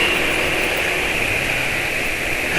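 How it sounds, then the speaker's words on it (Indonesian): An engine runs steadily with a coarse, noisy drone and a faint high whine, unchanging throughout and with no talking. "Ini suara mesinnya agak kasar ya"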